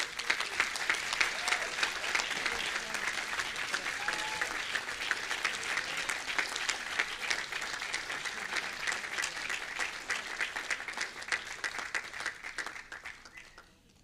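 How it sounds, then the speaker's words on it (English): A hall audience at a brass band festival applauds a cornet soloist in sustained, dense, fast clapping that carries strongly for about twelve seconds before thinning and fading away at the end. "Another round of applause."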